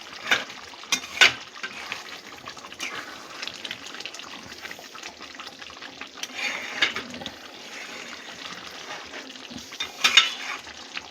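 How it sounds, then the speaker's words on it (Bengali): Paneer curry being stirred in a pan, giving quiet scraping and clinking of a spoon against metal with a soft background sizzle and a few sharper knocks, close and steady, with no talking. "এবার ভালো করে মিশিয়ে দেবো।"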